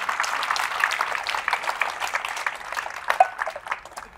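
A church congregation applauds together during a service, dense overlapping clapping at moderate distance, steady and unbroken for several seconds with no one speaking.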